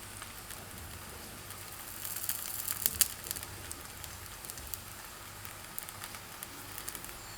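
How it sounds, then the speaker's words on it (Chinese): Flatbread dough laid into hot oil in a pan, giving a steady soft sizzle and fine crackle throughout, slightly louder for a moment near the middle, with no voices. "油热以后放入饼皮"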